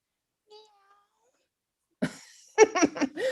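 A person imitates a cat meowing in short vocal bursts, preceded by faint tones and silence.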